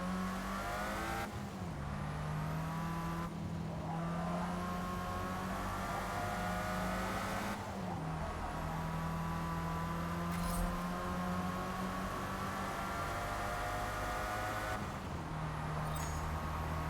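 Engine of a Lotus car with no upgrades racing in Forza Motorsport, droning loud and steady throughout, with repeated gear shifts and pitch climbs over a constant background.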